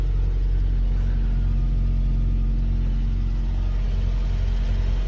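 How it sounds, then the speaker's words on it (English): A 1993 Land Rover Defender 110 idles steadily and loud, a constant low engine drone with no revving and no voices. "That's why the engine is running without it, even a single hiccup here in the background."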